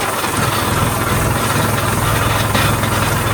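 A tractor idles in a groundnut field. Its low, slightly knocking engine rumble is loud, close and unbroken from start to finish, with no voices.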